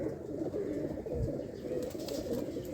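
A Sialkoti pigeon, held in the hand and agitated, coos in low rolling bursts close by, over a steady background murmur with no clear speech.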